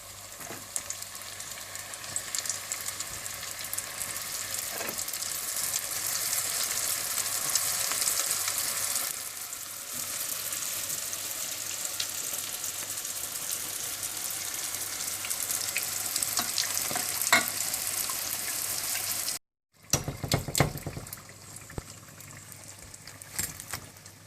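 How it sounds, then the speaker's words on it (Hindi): Spring rolls deep frying in hot oil, a loud, continuous crackling sizzle close by that briefly cuts out before resuming with sharper pops. "इसी तरह से आप बाकी सारे भी डीप फ्राई कर लें।"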